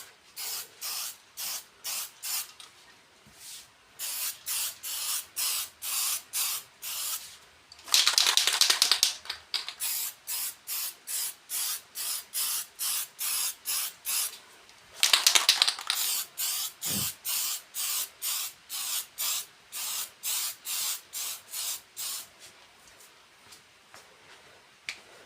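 A spray paint can coats a Nerf blaster in short, sharp hissing bursts, repeated steadily in a quick rhythm with a few longer sustained sprays, close to the mic and alone.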